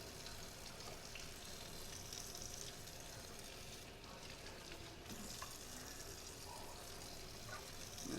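Running tap water pouring over brined blackfin tuna as it is rinsed, a continuous soft splashing hiss throughout, quiet and steady with no talking.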